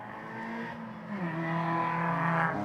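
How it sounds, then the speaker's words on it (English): Fiesta ST Cup race cars on the green flag lap at Knockhill, engines droning and rising in pitch as they pull away at a moderate distance, with no voices. "Just watching the cars heading round"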